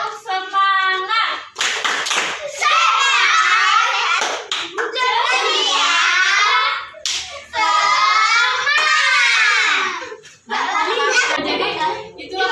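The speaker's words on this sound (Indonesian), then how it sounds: "alangkah baiknya kita tepuk semangat dulu." Children perform a rhythmic cheer clap in unison, several bursts of sharp, close hand claps in patterned sequences with brief pauses between, mixed with young voices chanting along.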